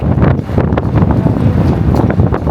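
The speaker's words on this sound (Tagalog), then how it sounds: "Lakas ng hangin." Strong, cold winter wind in Osaka, Japan buffets the microphone in a continuous, loud, low rumble with gusty surges throughout.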